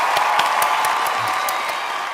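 A classroom of students applauding a presenting group, a dense, even patter of clapping lasting throughout at steady loudness.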